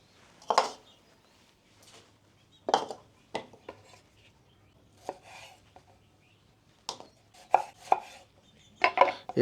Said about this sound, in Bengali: প্রথমে আমি টমেটোগুলো কেটে নিচ্ছি